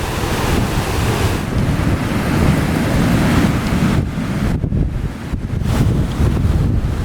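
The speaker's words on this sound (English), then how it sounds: "The wind is really strong." During Typhoon Auring on Siargao, strong gusting wind buffets the microphone with a heavy low roar while storm waves crash and surge on the shore. The sound is loud and continuous, with brief drops as the gusts ease.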